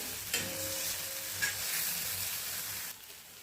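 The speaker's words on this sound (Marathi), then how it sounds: "एक तीन ते चार मिनटापर्यंत सतत असा परतवत हा ठेचा मी तव्यावर छान असा परतून घेतलेला आहे" Green chili thecha is stir-fried on a tawa, giving a close, steady sizzle with a few spatula scrapes before it briefly quiets near the end.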